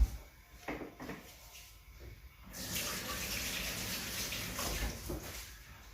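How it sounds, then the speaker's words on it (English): A kitchen tap turns on to a steady rush of running water as hands are rinsed beneath it, with a few faint clicks and knocks before the flow starts. "I am just going to quickly wash my hands as well"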